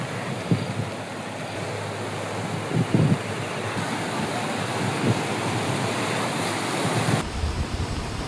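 Floodwater from a lake embankment breached by heavy rain in Pyalaram, Sangareddy district, rushes in a continuous loud roar with steady broadband noise and occasional wind buffeting, and no voices heard.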